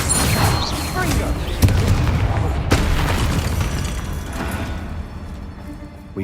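The Confringo blasting spell goes off in Hogwarts Legacy as a dense booming blast with sharp crackles, sitting over heavy continuous rumble and a voice speaking.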